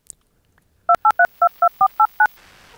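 A telephone number is dialed in a Minecraft film: eight crisp, evenly spaced touch-tone beeps in a quick steady rhythm, alone and clear, followed by faint line noise.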